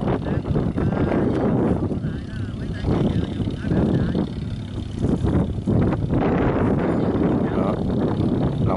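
Strong wind buffets the microphone on a scallop-raking boat moored at Hòn Tre during rain, a steady loud roar with gusting surges throughout, and someone talks over it.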